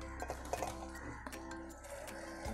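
Utensils clink against a bowl in quick, light taps while rice flour, gram flour, Koli masala, turmeric, garam masala and salt are mixed for a fresh shrimp batter, close and fairly quiet.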